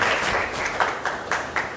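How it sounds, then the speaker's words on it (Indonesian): A classroom of students applauds a classmate, a dense wash of clapping hands that stays steady and fairly loud throughout. "Beri tepuk tangan untuk teman kalian yang sudah merefleksikan."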